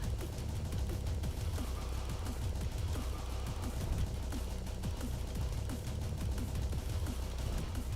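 Rapid-fire weapon shooting in the video game Heavy Metal Titans makes dense, continuous gunfire and explosions that pile into a loud, unbroken barrage throughout.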